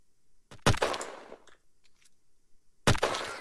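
Grenade fire and explosions in the online shooter Shell Shockers: a sharp shot followed by a loud blast that decays, some smaller crackling pops, then another sharp blast near the end, with no speech.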